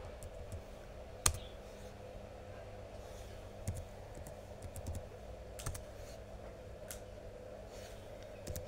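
Someone types a password on a computer keyboard, scattered quiet key clicks with a few sharper taps spread across the stretch over a steady low hum.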